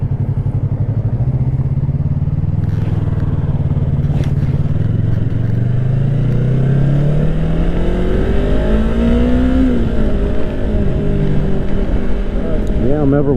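A motorcycle engine roars steadily while riding, its pitch rising and falling as the bike speeds up and shifts, with wind noise throughout.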